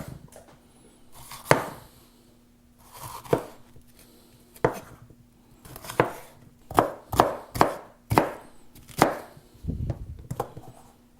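A knife chops vegetables for green gumbo into roughly bite-size pieces, irregular sharp close chops on a board, sparse at first and then coming in a quicker run of strokes, with no talking.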